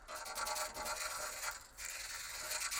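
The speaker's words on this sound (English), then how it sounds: "I roll up a sheet of coarse sandpaper and do a round over on all the edges" Coarse sandpaper rolled into a tube rubbing round-overs onto the edges of wooden tapering-jig pieces: a steady, close abrasive scratching in repeated strokes, with one short pause midway and no voices.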